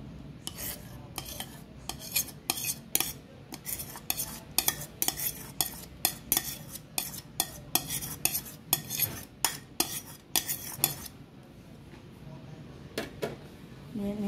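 A red cabbage salad is being mixed with utensils in a bowl, giving a steady run of sharp clinking and scraping strokes at a brisk, regular pace, then a pause with only faint handling.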